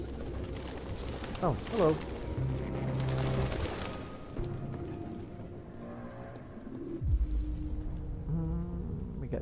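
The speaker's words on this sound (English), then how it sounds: "Excuse me, birds. Just fly away, yeah?" Pigeons in the video game Detroit: Become Human, soft low cooing and a flutter of wings close by, heard under a player talking and game ambience.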